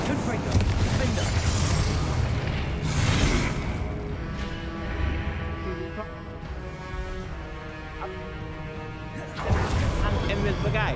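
Confringo fire blast spells burst with broadband explosions in the video game Hogwarts Legacy, one at the start, another around three seconds and a third near the end. A voice talks in the quieter stretches between the blasts.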